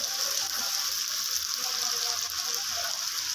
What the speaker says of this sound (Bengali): আলু ছোট ছোট করে আলু কেটে আলু তুলে দেবো তো আলুটা তুলে দিলাম